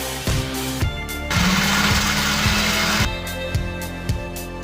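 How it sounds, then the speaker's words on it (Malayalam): Eggs beaten with crushed pepper and salt in an electric mixer or blender, a loud whirring motor that surges into a harsher churning burst midway, then drops back to a steadier hum. "മുട്ട, കുരുമുളക്, ഉപ്പ് ഇവ ചേർത്ത് നന്നായി ഒന്ന് ബീറ്റ് ചെയ്തെടുക്കണം"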